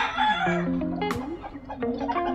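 Backyard chickens cluck and squawk close by, with a rooster breaking into a short crow partway through; no talking.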